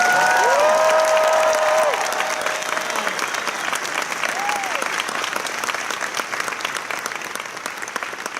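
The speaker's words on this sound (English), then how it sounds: "give a big round of applause for Tom." A large crowd at a Marvel 80th anniversary convention panel at D23 Expo 2019 bursts into sustained applause with cheers and whoops, loud at first and gradually settling into steady clapping.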